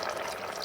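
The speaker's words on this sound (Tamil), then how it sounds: "பாலை விடுவோம்." Milk poured into a pot of Kilakkan fish curry, a steady soft liquid wash and trickle running close and continuous throughout, with no talk.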